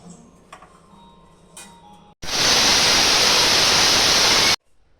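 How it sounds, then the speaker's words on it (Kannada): A pressure cooker on the stove lets out a loud, steady burst of hissing steam lasting about two seconds. It starts and stops abruptly against a quiet kitchen, with light ticking before it. "okay, cooker ಕೂಗಿದೆ,"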